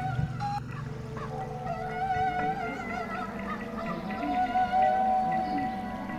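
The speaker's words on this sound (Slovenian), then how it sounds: "A kakšna čudna kost je ta, ki spušča krike kot lačna ptica z ostrim kljunom." Shrill, wavering cries like a hungry bird come from a replica of the Neanderthal bone flute found at Divje babe, sounding close and fairly loud in a steady run of sliding, honk-like tones.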